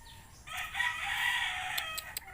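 A rooster crows in a long, loud, drawn-out call among many chickens at a rural poultry spot in Cadiz City, Negros Occidental, with faint clucks and other crows behind it and no talking.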